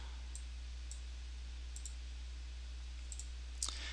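A computer mouse clicks several times, faint and sharp, in scattered pairs against a low steady hum, with a slightly louder click near the end and no talking.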